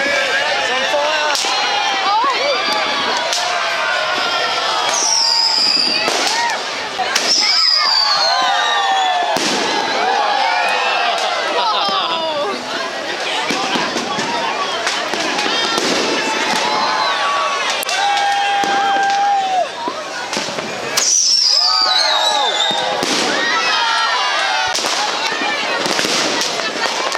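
Fireworks bursting outdoors in Thailand, with repeated loud cracks and whistling rockets going off in quick succession over excited shouting and chatter from people nearby.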